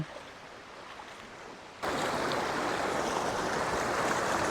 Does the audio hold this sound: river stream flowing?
yes